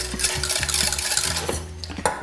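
Banana sorbet mixture stirred in a pot, a spoon scraping and clinking against the metal in a steady, close rhythm with a brief louder knock near the end; no talking.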